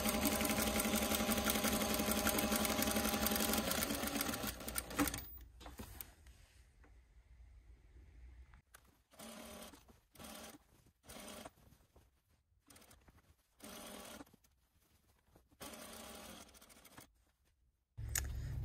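A sewing machine runs gathering stitches through fabric, one long steady whirring run followed by a series of short stop-start bursts separated by quiet gaps.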